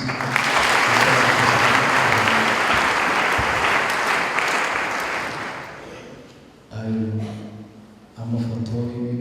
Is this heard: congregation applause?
yes